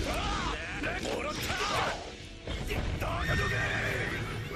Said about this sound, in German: Nein, die Pferde.